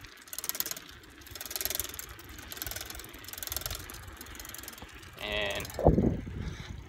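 Bicycle freewheel ticks in a fast ratcheting buzz during a summer ride, coming and going in short bursts as pedaling stops, with wind noise and a brief squeak near the end; a word of speech is faint.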